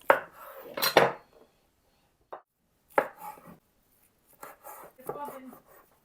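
A knife slicing homemade sausage on a board gives a handful of sharp, separate chopping knocks with quiet gaps between them, while a voice speaks briefly between cuts.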